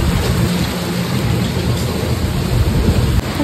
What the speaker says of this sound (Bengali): কি জোরে বৃষ্টি পড়ছে দেখো।